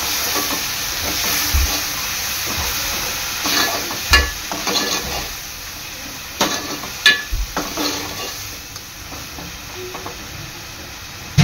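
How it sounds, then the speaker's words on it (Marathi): Masala paste stirred into onions frying in a pan for a spicy clam curry, with continuous close sizzle and hiss broken by repeated scraping knocks of a spoon against the pan. "वाटण चांगलं कांद्यामध्ये मिक्स करून घ्यायचं आहे।"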